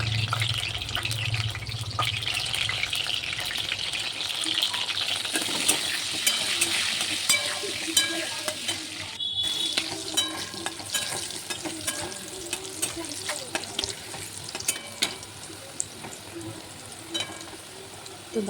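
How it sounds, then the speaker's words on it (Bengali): Sliced potatoes fry in hot oil in a wok, a loud, steady crackling sizzle that runs throughout with scraping stirs and clinks mixed in, and no talking. "কেটে রাখা আলুগুলো প্রথমে ভেজে নেবো লাল লাল করে।"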